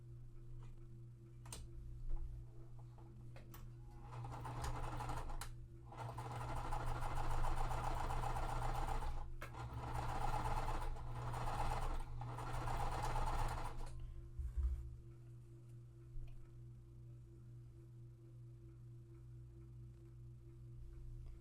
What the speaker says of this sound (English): I'm going to change chain stitch them at the same time.